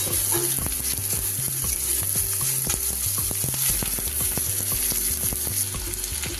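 Chopped ginger and garlic fry loudly in a pan, a dense steady sizzle up close with repeated stirring scrapes and knocks of a utensil throughout, no voices.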